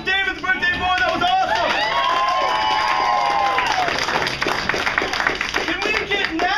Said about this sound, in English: round of applause for David, the birthday boy